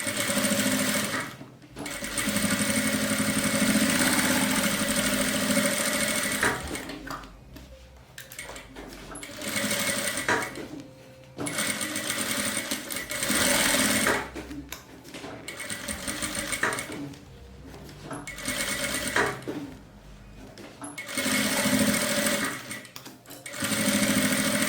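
A sewing machine stitches a straight seam along the edge of fabric, joining the lining, in loud close bursts of rapid mechanical whirring separated by short pauses, no talk.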